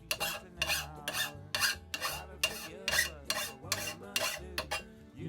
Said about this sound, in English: a single cut file like this one is only going to cut on the push stroke. So just push and cut and then bring it out